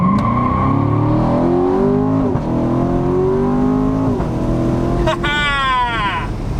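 A C7 Corvette Stingray accelerates hard from a launch on a steep downhill test run, its engine climbing loudly through rising gears with brief dips at each shift, a voice talking over the roar.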